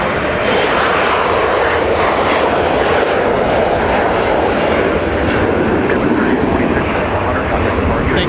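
A SkyWest Embraer E175LR jet passes at an airport during a winter storm, a loud, steady broadband engine roar that fills the scene.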